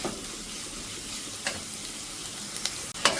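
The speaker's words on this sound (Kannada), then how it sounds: "ಈರುಳ್ಳಿ ಬೆಳ್ಳುಳ್ಳಿ 2 ಚೆನ್ನಾಗಿ ಫ್ರೈ ಆಗಬೇಕು" Onion and garlic fry in a pan with a steady close-up sizzle, interrupted by a few short scraping stirs and a clatter near the end.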